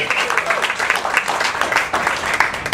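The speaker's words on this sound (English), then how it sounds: "everybody give them a big round of applause" An audience at a health and anti-aging event claps in steady, dense applause that rises and falls in small swells throughout, with faint voices mixed in.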